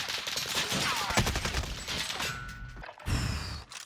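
Gunfire in the battle-royale game Call of Duty Warzone, dense volleys of rapid shots overlapping in a sustained fusillade with some mechanical clatter, loud and continuous at first before thinning and briefly pausing.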